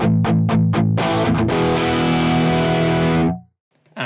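Heavily distorted electric guitar through a Quad Cortex amp model, with no doubling delay, plays a few choppy palm-muted stabs and then a sustained ringing chord that cuts off into near silence; loud, close, no talk.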